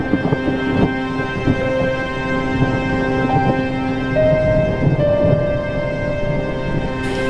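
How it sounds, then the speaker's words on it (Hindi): Thunder rumbles through a gathering storm with strong winds, a deep continuous low roll lasting several seconds beneath steady sustained musical tones. "बिजली कड़कने लगी।"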